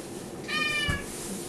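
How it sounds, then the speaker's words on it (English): A single cat meows once in a home kitchen, a short, clear, tonal call rising out of low background noise, with no talking over it. "here's our trusty lover, the cat."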